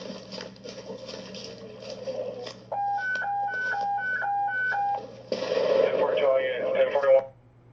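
Police radio dispatch alert tones sound as repeated two-pitch beeps over crackly radio chatter, then a longer loud tone burst follows before the channel cuts off, with voices heard through the radio.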